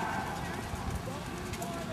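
A horse trots in a riding ring at a show, its hoofbeats a steady clip-clop under a busy, noisy backdrop where people talk over a loudspeaker.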